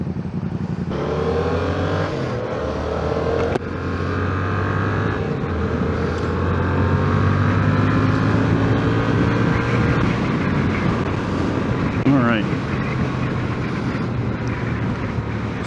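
A CF Moto 450 motorcycle engine runs steadily while riding, its drone rising and falling through gear changes with a brief sharp rev near the end, loud and continuous with no voices.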